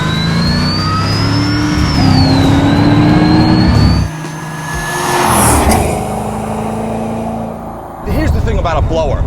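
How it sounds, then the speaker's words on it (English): A built LS V8 in a 2005 Pontiac GTO, topped with a TVS 2300 Magnuson supercharger, revs loudly and close up. A thin rising blower whine rides over the engine roar, then the revs settle and swell again. "Here's the thing about a blower. That whine is so intoxicating."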